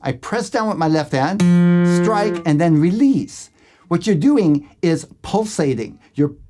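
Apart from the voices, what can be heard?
None of the usual background noises is heard.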